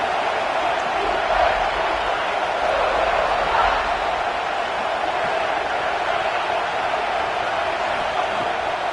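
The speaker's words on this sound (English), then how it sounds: "how nice is it to have the home crowd going absolutely bananas?" A home crowd at a college football game, Clemson versus South Carolina, keeps up a loud, steady roar and cheer with no break, a dense wash of many voices filling the whole stretch.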